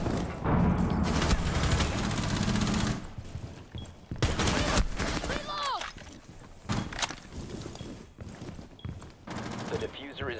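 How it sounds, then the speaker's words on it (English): Video-game gunfire on a new map: dense bursts of automatic fire and sharp shots that rattle almost continuously, broken by short gaps with footsteps and other game noises. "Everyone's shooting, making so much noise."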